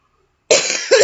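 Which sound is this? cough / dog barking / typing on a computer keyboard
cough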